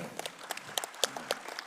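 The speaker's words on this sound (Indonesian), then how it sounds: "Tepuk tangan untuk Pak Yakob." Sparse applause from an audience welcoming Ambassador Yakob Tobing, a few scattered claps at a distance, faint and thin over low room noise, with no voices.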